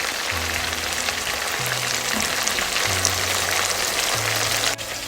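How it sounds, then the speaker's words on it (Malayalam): Chicken pieces shallow-fry in butter for restaurant-style butter chicken, giving a continuous, even crackling sizzle close by that barely changes throughout. "അപ്പോൾ ബട്ടറിൽ തന്നെയാണ് വറുത്തെടുക്കേണ്ടത്"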